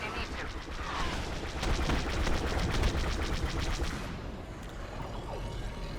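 Rapid automatic blaster fire rattles in quick repeated bursts during Star Wars Battlefront gameplay, loudest in the middle stretch, then fades into softer ambient battle noise. A faint voice is heard underneath.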